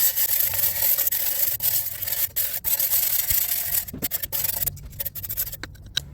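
An old wire brush scrubs brake dust off the front brakes of a 2017 Chevrolet Tahoe, a close, continuous harsh rubbing broken by short pauses and a few sharper scrapes.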